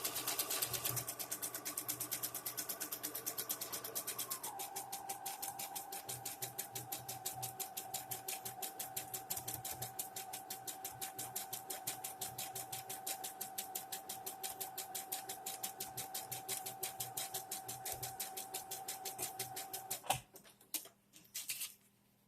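Sewing machine stitching appliqué fabric, a close rapid mechanical rattle of the needle running steadily for about twenty seconds before stopping, followed by a few light clicks.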